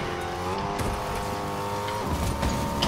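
A car in a video game drives with a continuous engine whine that shifts pitch as it accelerates and slows, steady and moderately loud with no talk.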